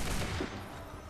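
Musket volley fire in the Assassin's Creed III video game, a dense burst of overlapping gunshots that rumbles loudly at the start and then trails off into a fading roar across a very short stretch.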